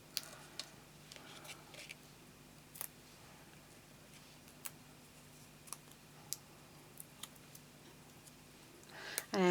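Sharp scissor snips cutting 12 x 12 scrapbook paper, a sparse series of quiet clicks spaced irregularly, close and alone, with a louder rustle at the end.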